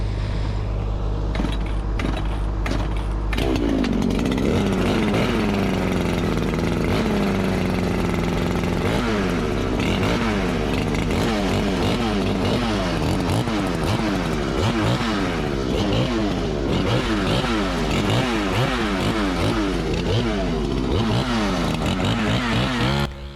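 Husqvarna 395 chainsaw cutting through large hardwood logs: a loud, close two-stroke engine revving hard, its pitch rising and falling repeatedly as the chain bites into the wood, with no talking.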